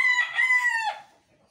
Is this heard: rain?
no